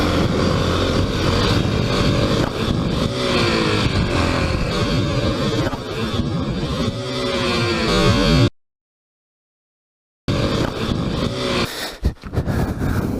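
A Kawasaki KLX300 dirt bike on knobby Tusk DSport and Pirelli MT21 tires runs on a trail with a loud, steady engine drone that swells and wavers. It cuts out for about two seconds, then returns with rough bursts.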